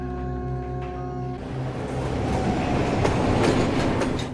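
A special train carrying fighters runs on rails in a film scene, starting under a held musical tone, then a loud, steady rumble of wheels with clickety-clack beats close by.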